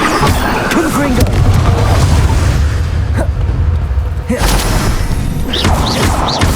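Repeated blasting-spell explosions from the Hogwarts Legacy video game boom and crash loudly through dense combat noise, with heavy thuds and swooshes stacking continuously and a voice speaking over the din.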